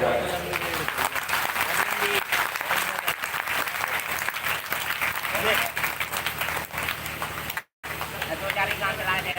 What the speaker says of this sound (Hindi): एक बार पूरे दिल से अपने लिए ताली बजा लें